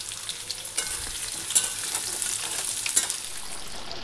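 Potatoes frying in spiced oil with bay leaf, whole garam masala and cumin, the base for a fish curry, sizzling steadily and close up with a few louder crackles and spatters and no talking.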